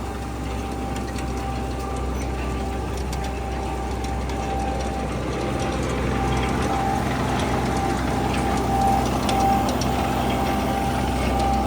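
A Demetra garden seed drill runs with its variator mechanism working while sowing soybeans, giving a steady, loud mechanical drone with a constant hum that stays level throughout, with no speech.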